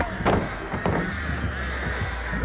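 Crows caw in the video game Dead by Daylight, a few harsh calls standing out over a steady low in-game ambience, fairly close and clear with no talking.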